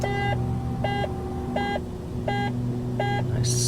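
Cockpit warning tones in a Dornier Do228 of Aurigny on a real flight from Guernsey to Alderney: five evenly spaced double-tone beeps over the steady drone of the engines.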